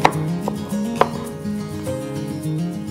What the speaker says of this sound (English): Chop about 2 stalks of green onion.